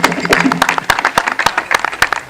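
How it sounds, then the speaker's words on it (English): An audience at the launch of the Ghana FA Normalization Committee Special Competition claps, giving sharp, scattered handclaps that come in a loose, uneven rhythm and sound close. "Let's give the government of Ghana a round of applause."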